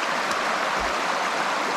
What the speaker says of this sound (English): just the sound of the creek running